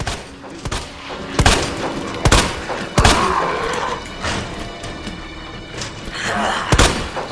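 Gunfire from the Resident Evil 2 remake, with Leon firing a shotgun: loud booming shots in an uneven sequence over game ambience, along with thuds and impacts.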